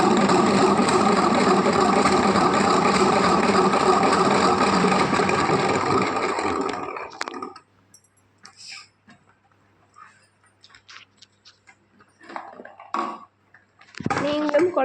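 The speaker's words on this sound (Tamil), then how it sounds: "இது நம்ம சுற்றினோம்னா சுற்றுற ஸ்பீட்டில் தேன் வந்துடுங்க" A spinning honey extractor gives a loud, close, steady whirring rumble for about seven seconds and then stops, after which scattered faint sounds and voices follow.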